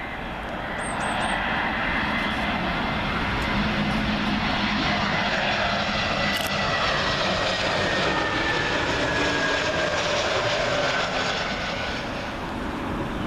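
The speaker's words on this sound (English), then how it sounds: "Austrian A320neo coming in from Vienna" An Austrian Airbus A320neo comes in to land at Heathrow on runway 27L, a loud, sustained engine roar with a faint whine, close overhead and steady throughout before tapering slightly at the end.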